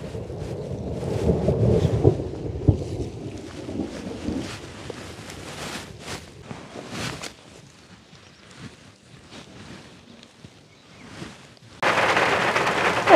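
Thunder rumbles through rain and wind gusts outdoors while cabbage is being planted, a loud low roll for the first seconds, then scattered patter and wind buffeting, ending in a burst of heavy rain noise.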